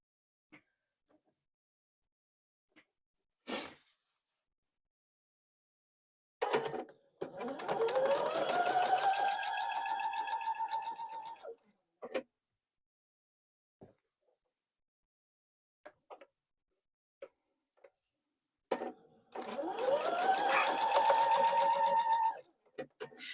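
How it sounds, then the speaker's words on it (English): A sewing machine stitches 2.5-inch fabric squares corner to corner for a quilted heart tablerunner, running in two steady bursts of motor whir and needle clatter, separated by quiet pauses with a few light handling clicks. "we are going to sew corner to corner"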